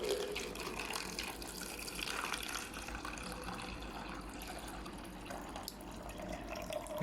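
Water pours steadily into a container fitted with an Arduino water level sensor, a continuous soft splashing trickle that stays fairly quiet and even throughout, with no voices.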